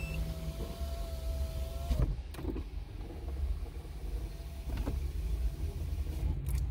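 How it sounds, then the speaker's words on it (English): A Mercedes-Benz car's power windows whir down with a low motor hum inside the cabin, brief mechanical clunks marking stops, under steady engine or fan rumble. "I'm going to put all the window down for stop the noise."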